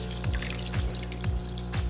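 Foot soak pours into a basin of water in a steady trickling stream, with a low rhythmic pulse about every half second, close and with no talk.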